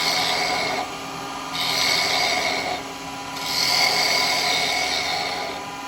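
A hollowing tool cuts into wood spinning on a wood lathe, worked like a bowl gouge, giving a steady, close, rasping scrape that swells and eases in three long passes with no talk.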